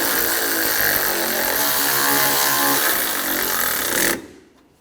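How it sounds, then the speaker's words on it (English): A power impact tool tightens the strut bolts on a 2013–2019 Ford Escape, a loud, continuous whirring buzz held close for about four seconds before cutting off abruptly into quiet. "We're going to tighten these bolts down."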